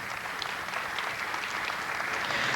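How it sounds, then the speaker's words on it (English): Steady applause from an audience at a 1991 Missouri Entertainer of the Year show, dense continuous clapping at an even level throughout with no voices standing out. "Let's give Clementines a round of applause, please."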